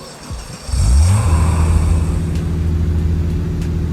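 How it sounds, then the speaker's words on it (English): A Roblox car's engine cranks and catches, then settles into a loud, steady idle with a strong low rumble and a rev, heard up close and alone. "Now there's the rev. Sounds like a V6, am I right?"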